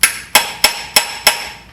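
Five evenly spaced metallic taps from a hammer on a part of a seized VW Beetle engine ring out close and crisp, each with a brief decaying ring.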